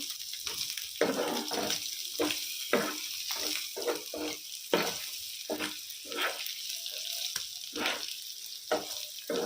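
Chicken pieces sizzle in a hot pan with no added water while a utensil scrapes and clatters against it in irregular strokes as they are stirred.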